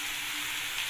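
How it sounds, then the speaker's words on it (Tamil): Onions, tomatoes and salt sauté in a pan for a potato kurma, giving a brief, even, soft sizzle with no voices. "இப்போ வந்து இந்த வெங்காயம் வதங்க பாருங்க"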